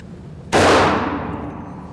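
A single loud gunshot from a Hi-Point 1095ts 10mm carbine at a shooting range: an abrupt, powerful crack followed by a long decaying echo that fades over about a second.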